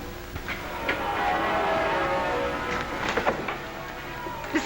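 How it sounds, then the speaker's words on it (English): Church steeple bells ringing for a wedding in England, a dense clangour of overlapping peals with scattered brighter strikes against a continuous wash of sound. "Listen to our wedding bells."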